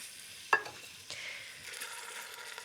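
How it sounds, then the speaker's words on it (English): Beef drops into a hot pot with a clunk, then a soft, steady sizzle of searing continues, fairly quiet with faint stirring scrapes. "So in with our beef, nice little sizzle there."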